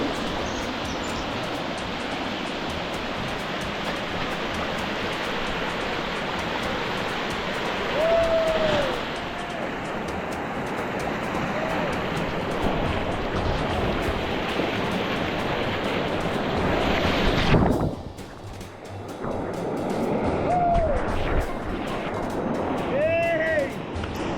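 Rushing river rapids during a tubing descent in Costa Rica, a steady broadband roar of churning water lasting throughout, briefly dipping near the end before surging back, with faint high bird-like chirps over it.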